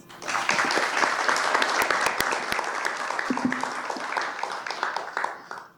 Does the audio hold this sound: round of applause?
yes